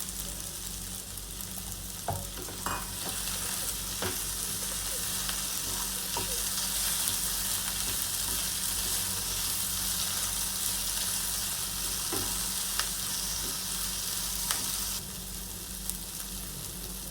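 Okra (bhendi) fries in a pan with a continuous loud sizzle and hiss, while occasional scrapes and taps of a spoon stirring the vegetables come through close up.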